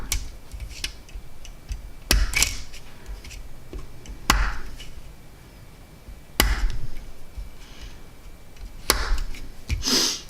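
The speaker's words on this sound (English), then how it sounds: "I've been using my chisel to do it" A chisel chops into wood in sharp, separate knocks about every two seconds, each followed by lighter scraping and tapping, close and fairly quiet with no talking.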